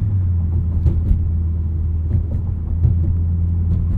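Steady low engine rumble from a 2016 Dodge Challenger SRT 392 muscle car while driving, heard from inside the cabin as a continuous deep drone with slight swells and no talking.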